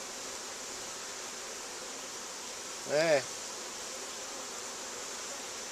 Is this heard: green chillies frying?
no